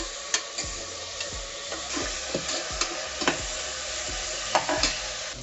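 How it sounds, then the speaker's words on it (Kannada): Ginger garlic paste fries for mutton biryani in a pan, a steady close sizzle broken by regular scraping stirs of a spoon against the pan. "ಹಸಿ ವಾಸನೆ ಹೋಗೋವರೆಗೂ ಫ್ರೈ ಮಾಡ್ಕೊಳ್ಳೋಣ."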